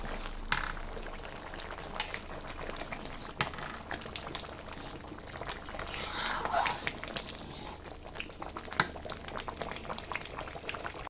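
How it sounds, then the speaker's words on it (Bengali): Tomato pulp simmers on a stove as it cooks down toward a sauce for tomato fruit leather, a continuous bubbling hiss with occasional sharp utensil knocks and clatter. "এবার আমি এটাকে ভালো করে সিদ্ধ করে নেব টমেটো সসের মতো করে তৈরি করে নেব"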